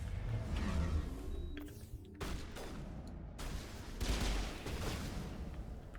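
Sniper gunfire in Mass Effect Legendary Edition, several heavy booming shots spaced a second or so apart over a rumbling battle backdrop.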